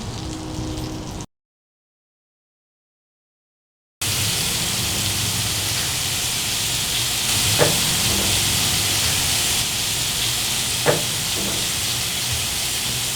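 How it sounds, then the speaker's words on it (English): Guinness-marinated rib eye steaks sizzle on a hot, oiled grill, a steady broadband hiss filling the scene after a short silent gap, with a couple of faint pops breaking through near the end. "The grill is hot and has been oiled. We're going to go ahead and place the steaks on."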